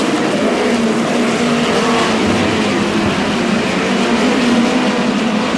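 POWRi West midget race cars racing at Humboldt Speedway, a continuous loud snarling engine roar from several cars close by, holding steady with no voices over it.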